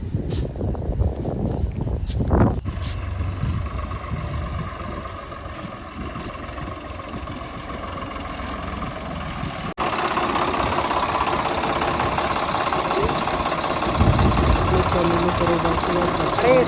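A 2021-model tractor idles nearby with a steady, knocking diesel chug. Someone talks over the start, and the engine grows slightly louder and rougher toward the end.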